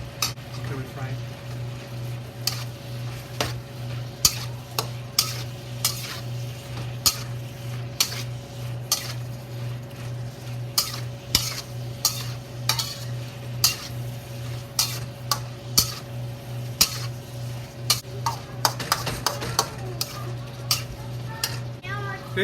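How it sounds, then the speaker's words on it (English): Shrimp and scrambled egg stir-frying in a pan, a low sizzle beneath a constant hum, punctuated by frequent sharp clicks and scrapes of a utensil against the pan. "Okay, we fry it."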